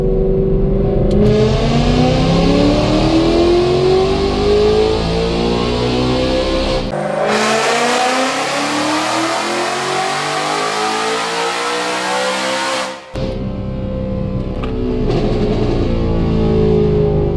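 A supercharged S650 Mustang pulls hard in 6th gear on a dyno, its engine note climbing steadily and loudly across a long sweep with rising supercharger whine, then cutting off abruptly and settling back to a lower idle-like drone.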